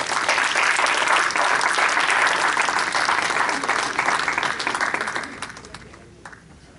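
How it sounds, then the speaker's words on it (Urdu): An audience at an Urdu Academy literary evening applauds to welcome a ghazal performance, with dense, sustained clapping from many people that thins out and dies away near the end. "آپ کی تالیوں کے ساتھ"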